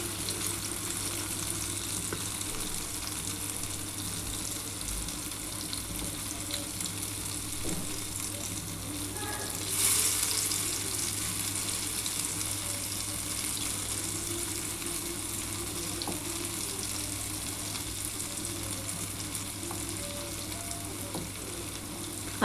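Fritters made from ground poppy seeds and white sesame deep-fry in hot oil, giving a steady soft bubbling sizzle over a low kitchen hum, with a brief brighter splash partway through; no one speaks.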